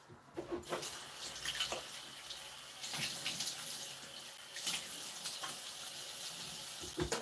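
Tap water runs steadily into a sink as a face is rinsed, with uneven splashes and gushes from hands cupping and spilling water, close and moderately loud with no talk.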